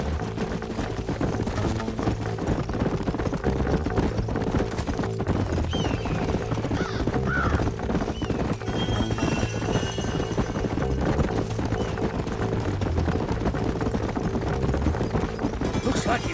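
Horse hooves clip-clop over dirt in Red Dead Redemption on Xbox One, a steady rhythmic trot heard continuously beneath game music and ambient sound.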